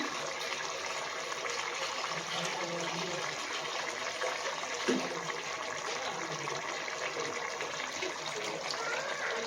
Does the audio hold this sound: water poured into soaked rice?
yes